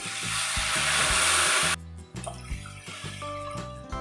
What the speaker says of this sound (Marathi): यामध्ये आपल्याला घालायचं आहे दोन ग्लास पाणी